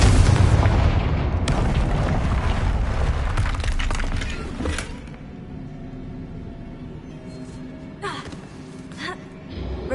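A Confringo fire spell from the Hogwarts Legacy video game detonates loudly at the start, a dense booming blast that rumbles and fades into quieter crackling and scattered clatters.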